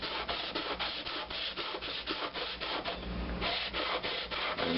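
A lathe compound slide gib is rubbed back and forth on 80 grit sandpaper laid on a granite slab, making a close, rhythmic rasping of quick, even strokes.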